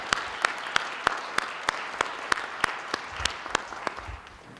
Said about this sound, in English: So I'd like us all to give them a very loud round of applause for all their hard work they put in putting this together.